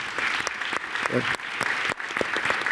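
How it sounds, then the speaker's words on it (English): A brief burst of audience clapping at a Global Citizen Now event in New York, with a voice talking over it. "Let's give her another round of applause."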